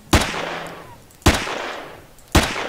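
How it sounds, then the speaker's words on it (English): Three loud, sharp gunshots in Empyrion Galactic Survival, evenly spaced about a second apart, each a close crack followed by a decaying echo tail. "I'm going to shoot you before you become a problem."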